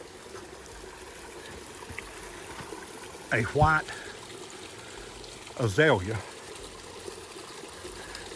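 Steady rushing flow of a river at Big South Fork near Station Camp crossing and Leatherwood Ford, a constant broad wash running throughout, with a person's voice speaking briefly over it twice.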